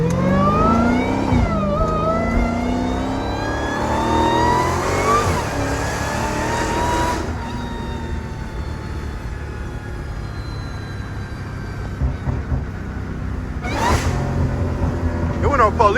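A Dodge Hellcat's engine revs hard and accelerates, rising in pitch through the gears and echoing off nearby trees and walls, then settling into a lower rumble with another sharp rev burst near the end while people talk over it.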